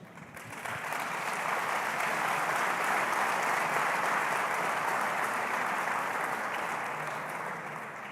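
A church congregation applauds in a steady, even wash of clapping that swells in quickly, holds, and eases off slightly, heard at a distance and fairly soft.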